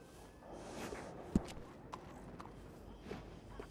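Hooves of a horse clip-clop softly in the Red Dead video game, with a few scattered light steps and one sharper knock, faint and somewhat distant, with no talk over them.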